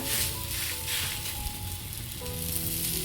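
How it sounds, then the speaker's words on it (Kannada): Ragi flour roti with sweet potato fries in oil on a hot tava, giving a steady, close crackling sizzle that runs without a break and gently rises and falls, with no talking. "ಅದಕ್ಕೇ ನಾವು ತೊಟ್ಕೊಂಡಿರೋ ರೊಟ್ಟಿನ ಹಾಕೊಳ್ಳೋಣ ನೋಡಿ ಈ ಥರ"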